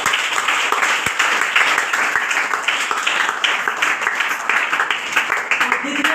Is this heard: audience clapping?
yes